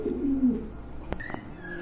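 A pair of large, all-black pigeons at a pigeon farm, giving a low throaty coo close by, followed by faint higher chirps in a quiet setting.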